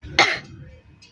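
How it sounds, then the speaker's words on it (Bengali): One short, sharp cough or throat-clearing bursts out close up, then fades into quiet. "দেখছ কাশি হয়ে গেছে নি?"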